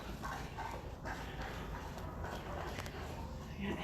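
A 1.5-year-old German Shepherd at an animal shelter barks amid a dense, steady din of kennel noise. Voices murmur in the background throughout the short stretch.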